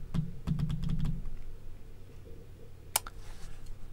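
Quick keystrokes on a computer keyboard while setting up a Raspberry Pi: a short cluster of clicks at the start, a pause, then one sharp key press and a few lighter taps, close and alone.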